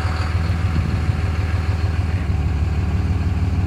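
A 5.9 Cummins 12-valve diesel idling at about 750 RPM, a steady low rumbling clatter with a regular throb, close and continuous, with no voices.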